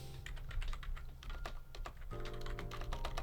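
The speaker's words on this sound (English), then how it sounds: "if I can type" Rapid keystrokes on a computer keyboard click in irregular bursts over a steady low hum. The sound is fairly close but quiet, and no one speaks.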